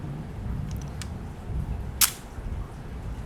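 A Zeiss Ikon Contaflex film camera with a Synchro-Compur-X Tessar lens fires its shutter in bulb mode: one sharp, close mechanical click over a steady background hiss, with a couple of fainter ticks just before it.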